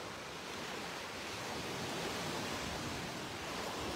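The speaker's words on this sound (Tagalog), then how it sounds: "umuulan kasi guys, kaya sobrang laki ng alon" Large ocean waves crash onto a Mindanao shore in the Philippines during rain, making a dense, continuous roar of surf and hiss that stays steady and close, with no talking.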